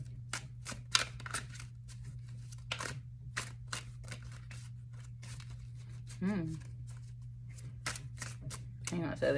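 Tarot cards are shuffled in quick, crisp riffling bursts, a steady flutter of snaps repeating over a low hum, with a voice briefly speaking partway through.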